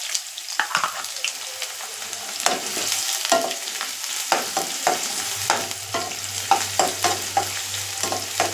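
A steady sizzle of chopped large onion frying in a pan, broken by repeated scraping stirs with a utensil, close and fairly loud.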